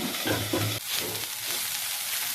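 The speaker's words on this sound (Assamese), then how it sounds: "মাত্ৰ 2 মিনিটমান সময় লৰাই দিম।" Papaya flower fry stirred in a pan over a low flame: scraping spatula strokes in the first moments, then a constant gentle sizzle, close and moderately loud.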